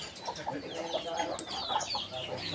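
Chickens cluck and chatter inside an aviary, soft repeated calls close by with a brief sharp squawk midway, over a quiet, busy background.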